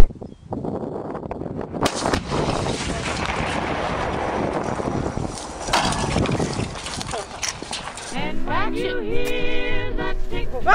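A dense burst of loud, rapid fireworks bangs and crackles lasts several seconds, then gives way to fainter whistling and popping, with people talking.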